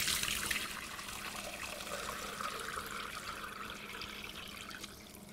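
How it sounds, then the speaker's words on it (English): Fermented pineapple cayenne hot sauce brine is poured off, a continuous close splashing trickle of liquid that stays steady and fades slightly toward the end, with no talking. "Let's get this brine poured off here."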